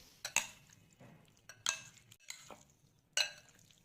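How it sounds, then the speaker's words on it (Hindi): A spoon scrapes and clinks against a bowl while mixing spices into raw chicken, several sharp metallic taps and wet stirring strokes at an uneven rhythm, close and clear, with no talking. "अब हम स्पून की मदद से इसे अच्छी तरह से मिक्स कर लेंगे।"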